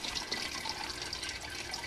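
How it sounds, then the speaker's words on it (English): Water trickling and dripping steadily from a leaking hydroponic ebb and flow tray used for seeds and cuttings, a faint, continuous splashing close by with no voices. "Got a leak going"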